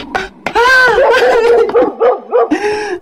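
A dog barks and yips excitedly several times in quick succession, close by, with whimpering, yelping tones between barks.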